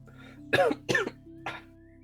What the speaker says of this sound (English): Your cough hasn't lessened.